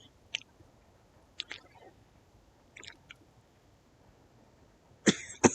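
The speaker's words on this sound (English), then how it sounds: "And I hate this cough." Person coughing, a few short bursts spread through a quiet room with small gaps between them, ending in a stronger cough near the end.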